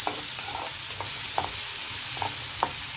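Onions frying in a pan for tomato chutney, a steady broadband sizzle with a few scraping stirs of a spoon against the pan, close and continuous with no talking.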